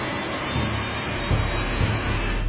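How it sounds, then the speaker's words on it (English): Jet airliner engines at takeoff thrust on TWA Flight 800, a steady loud roar with deep rumble and rising low surges, heard alone without voices. "Takeoff thrust."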